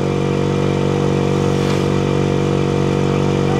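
Kawasaki HD3 125cc two-stroke motorcycle engine running steadily close by, a loud buzzing drone with a slight rise in revs midway, heard alone.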